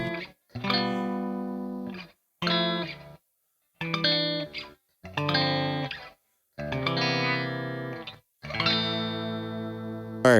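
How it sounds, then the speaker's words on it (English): An electric guitar played on a clean tone through Digitech effects rings out in six separate strummed chords, each held about a second and a half with short silences between, moderately loud and alone. "this is my clean tone."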